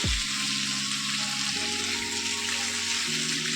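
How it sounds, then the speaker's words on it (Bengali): Raw banana pieces fry in hot oil with a constant close hiss and sizzle, with a faint tonal hum running underneath. "কাঁচকলাগুলো একটু ভেজে নেব হালকা করেই"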